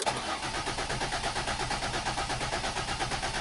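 A 2005 Ford Escape engine cranks over steadily on the starter, a loud rhythmic chugging that keeps repeating without catching, heard close and alone.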